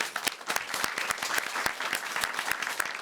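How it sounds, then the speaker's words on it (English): A modest audience at an economics competition claps with distinct, sharp individual hand claps audible in a steady burst, fairly close and unaccompanied by talk. "I'd like to ask for another round of applause"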